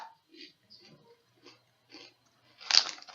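Quiet, scattered chewing sounds build to a loud, bright crunch near the end, as someone bites into crunchy granola.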